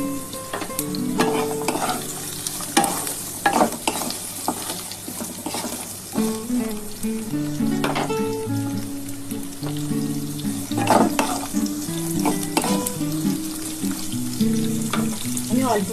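Leafy greens fry with egg in a pan, with a constant sizzle broken by repeated scraping strokes of a spatula stirring and turning the mixture, close and fairly loud, with no talk.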